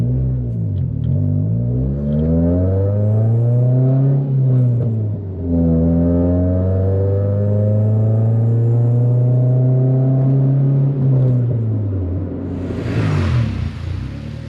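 A Honda Civic EK drives with a loud engine drone that rises and falls through gear changes, with a rumbling exhaust and revs up close and no speech.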